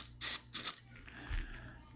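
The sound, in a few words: spraying cleaner into a Glock pistol barrel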